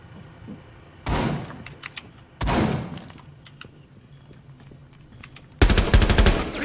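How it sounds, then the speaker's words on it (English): Automatic gunfire in the video game Rainbow Six Siege: two loud bursts of rapid shots, then a longer, denser volley near the end, with quieter in-game sounds between them. "So many bullets."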